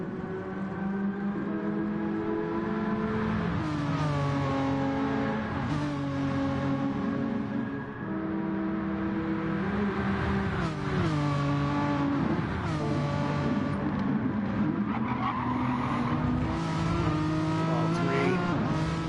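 Several Renault Megane race cars in a racing video game roar continuously, engines climbing and dropping through gear changes and revs as they run close together through a corner, loud and steady throughout.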